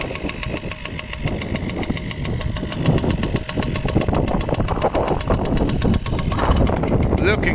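A small Yamaha PW80-style dirt bike engine, a copy, idles steadily while warming up with its choke on, giving a loud, close, continuous buzzing putter as people talk over it.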